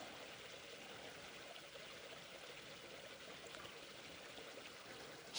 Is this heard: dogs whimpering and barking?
no